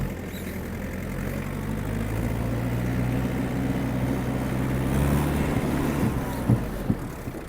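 Yanmar FX-42 mini tractor diesel engine revving up steadily from a low idle, with a continuous rumbling drone that swells gradually; no speech over the engine.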